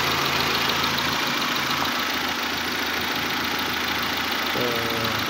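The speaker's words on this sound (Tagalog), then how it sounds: "maganda pa andar kahit medyo madungis ang makina" A 2003 Honda Civic engine idles with a slightly dirty engine bay, a steady, close, even drone that holds without a break from start to finish.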